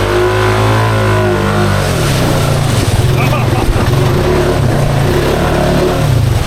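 A Honda ATV engine revs hard in first gear while churning through a deep mud rut on a swamp ride, a loud, steady, close drone that surges and pulses without letup.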